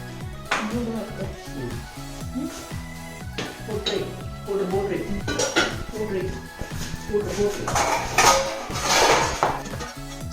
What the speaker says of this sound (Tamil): டின்னர் பண்ணுறதுக்கு முன்னாடி வந்து இருக்கிற பாத்திரம் எல்லாத்தையுமே வந்துட்டு சார்ட் அவுட் பண்ணி வச்சுட்ருக்கேன்